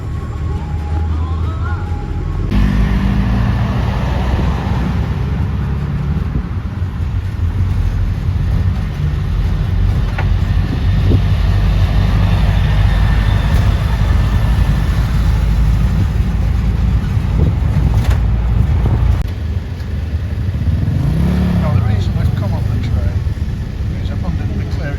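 Ride aboard a crowded songtaew shared taxi moving through town traffic in Ubon, Thailand, during the candle festival: a steady engine rumble and road noise run throughout, with passengers talking over the drone.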